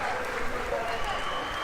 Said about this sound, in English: you're hearing the crowd cheering, of course, for Carmichael as he's making his way off the field